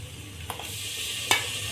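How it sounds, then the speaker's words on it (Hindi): Spices and tomato paste fry in a pan for an aloo shimla mirch curry, giving a steady soft sizzle with a couple of sharp stirring clinks, close and alone. "अब हम इसे 4 से 5 मिनट मसाले को अच्छी तरह भूनेंगे।"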